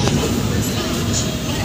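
13063 Balurghat Express running on LHB coaches, a steady, loud, close interior rumble of rolling wheels and carriage noise that persists without a break.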